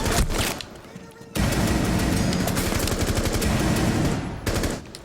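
Rapid automatic gunfire in Rainbow Six Siege, bursts of dense shots with brief gaps, loud and close, with a short pause before a long sustained stream of fire.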